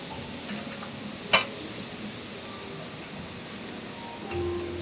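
Squid tentacles sizzle steadily in hot olive oil in a pan, a soft continuous frying hiss with one sharp tick partway through and a brief stir near the end.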